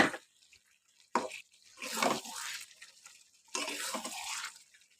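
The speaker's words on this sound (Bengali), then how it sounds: "এবার আমি জলটা গরম হলেই দিয়ে দেবো" Hot water poured into a simmering mango chicken curry in a pan, heard as bursts of splashing, gurgling liquid with short pauses between pours, close and moderately loud.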